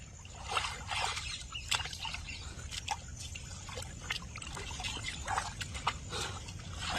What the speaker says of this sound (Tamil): இருங்க கொஞ்சம் நீச்சல் அடிச்சுக்கிறேன் அப்பா